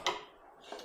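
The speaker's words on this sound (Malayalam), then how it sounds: "ഗ്യാസ് കത്തിക്കാം." A kitchen gas stove igniter gives two quick, faint clicks, one at the start and one near the end, in a quiet room.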